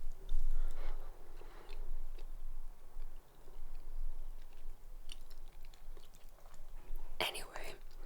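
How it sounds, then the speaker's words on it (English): Comté cheese being chewed during an ASMR wine tasting, soft close mouth sounds and quiet munching spread through the clip, with whispered talk at moments and one sharper click near the end. "we're going to go ahead and have some Comté cheese with it"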